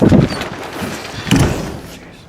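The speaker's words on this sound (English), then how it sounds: "If I can get the door to shut" A shop door being pushed shut in a workshop, giving a couple of dull thumps and a scraping knock at moderate loudness, with no speech over it.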